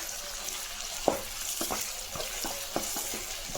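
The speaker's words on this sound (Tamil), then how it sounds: "இப்போ பெரிய வெங்காயம் ஒன்று கட் பண்ணி வச்சுக்கலாம் அதையே சேர்த்துக்கலாம் வெங்காயம் நல்லா வதங்கிட்டோம்" Large sliced onion sautéing in oil with mustard seeds gives a soft, steady sizzle, broken by several light stirring scrapes and taps at close range.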